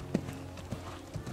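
Horse hooves at a canter during a riding lesson, a few soft, spaced thuds of hoofbeats at moderate distance with faint ambient noise between them.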